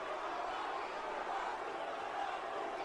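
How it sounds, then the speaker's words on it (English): Large wrestling crowd booing The Rock in an arena: a steady, dense wash of jeering voices, loud and continuous throughout with no single voice standing out. "You hear the boos. Do you hear the boos?"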